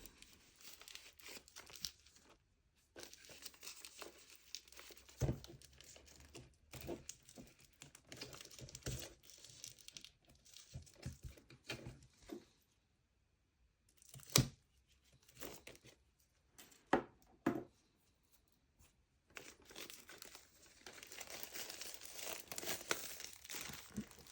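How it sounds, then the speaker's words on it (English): Plastic wrap being peeled and torn off a Blu-ray release, close crinkling and crackling in irregular bursts separated by quiet pauses, no talking. "Not the easiest of unwraps that I've done."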